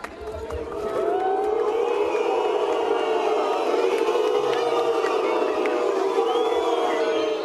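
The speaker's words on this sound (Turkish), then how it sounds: "Antalya valisi Ahmet Altıparmak çelengi bırakacağı sırada CHP'li grup yuhalamaya başladı" A crowd of CHP supporters booing during a governor's wreath-laying ceremony at an official commemoration in Antalya, a loud sustained roar of jeers and shouts rising after a quieter first second and holding steady.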